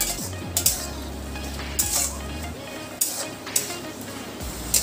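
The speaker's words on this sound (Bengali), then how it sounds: "টমেটোটাকেও এর সাথে ভালো করে কষিয়ে নেব।" Chopped tomato sautés in a pan for Bengali-style katla fish kalia: a low sizzle under repeated spatula scrapes and light metallic clinks against the pan, close and without speech.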